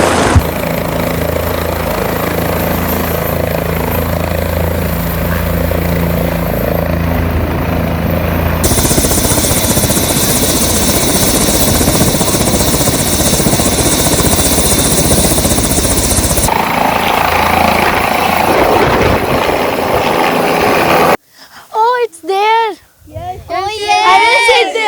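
A helicopter landing on a school helipad drones loudly and continuously with a heavy rotor roar, shifting in tone as it comes down; children's voices are heard near the end as the engine noise cuts away.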